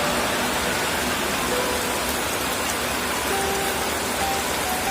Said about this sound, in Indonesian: Dan kondisi hujan di luar